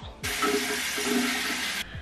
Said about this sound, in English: now I'm just gonna take some water and rinse this off